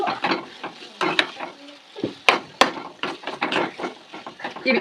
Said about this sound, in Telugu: మూడే మూడు తీసుకున్నాను వెల్లుల్లి బాగా కలుపుకోవాలి ఇలాగా